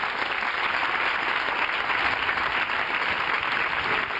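A church congregation breaks into loud, sustained applause during a prayer service, dense clapping filling the space steadily from start to finish with no voices standing out.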